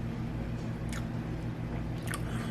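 Oatmeal banana bread is bitten and chewed close to the mic in two short soft bursts over a constant low background hum.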